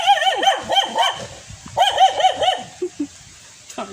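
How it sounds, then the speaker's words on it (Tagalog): A dog barks repeatedly at a scenic spot in Rizal, two clusters of sharp, fairly close barks with short yips and a whimper trailing off at the end, no talking. "Kaso may aso."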